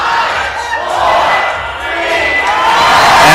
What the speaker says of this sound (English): Crowd's getting excited here.